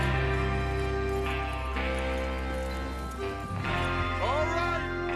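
Horse hooves clip-clop and a horse snorts in Red Dead Redemption 2, set under a loud, sustained musical score that dominates, with the hoofbeats and a whinny-like sound near the end.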